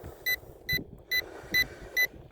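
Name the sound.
beeps from drone remote controller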